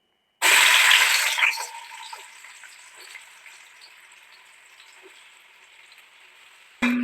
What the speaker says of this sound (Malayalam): അപ്പം സവാള ആദ്യം ഫ്രൈ ചെയ്തെടുക്കാം.